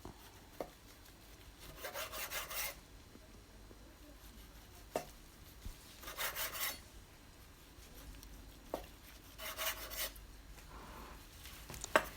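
A sharp knife cuts dough into snail shapes on a kitchen work surface with repeated quiet scraping strokes in bursts and occasional light taps. The sounds are close and soft, and no one speaks.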